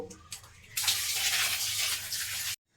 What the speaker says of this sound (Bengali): প্রথমে আমি এই মাংসগুলো ভালোভাবে ধুয়ে নেব